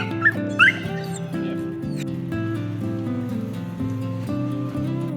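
A dog at a campsite gives a few high yips and whimpers near the start, then quiets under a steady, humming tonal background.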